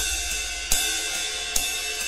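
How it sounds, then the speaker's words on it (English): A background ride cymbal loop from an FL Studio pop drum track, with steady shimmering high metallic washes and two sharper accented hits, played alone at moderate level. "And then I just have a ride loop in the background as well."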